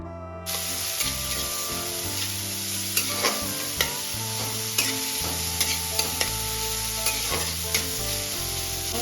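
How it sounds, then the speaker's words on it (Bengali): Chopped onion and grated garlic hit hot oil with a loud sustained sizzle, punctuated by repeated sharp clinks and scrapes of stirring, while music plays in the background. "তেল গরম হয়ে গেছে এবার তেলের মধ্যে মা দিয়ে দিল পেঁয়াজ কুচি"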